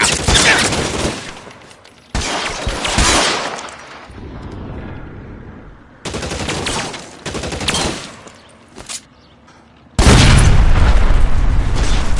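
Gunfire from an L.A. Noire shootout, loud booming shots and rapid fusillades that come in several bursts separated by quieter stretches, with the heaviest volley at the end.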